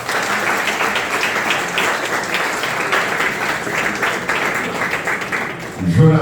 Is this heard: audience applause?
yes